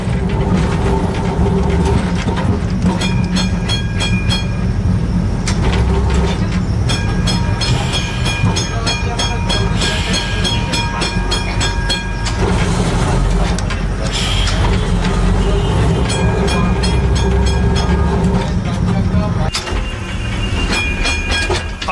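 Tram train rattling along its rails, a loud steady rumble with clattering wheels, metallic squeals and creaks from the carriage, continuous and close throughout.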